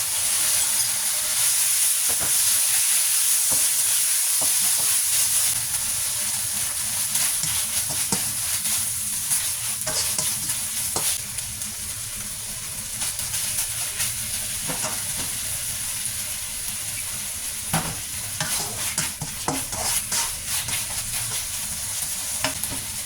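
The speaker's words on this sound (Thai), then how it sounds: "หมูของเราลงไปผัดก่อนนะจ๊ะ" Pork stir-fries in a hot pan for an egg noodle dish, a steady close sizzle and hiss with frequent stirring scrapes running throughout, with no talking.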